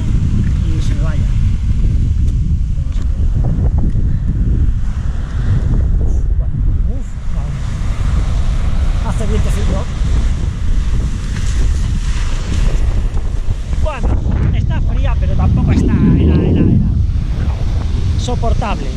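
Seawater washes against the shore in a continuous loud roar of breaking surf and churning water, mixed with heavy wind buffeting the microphone.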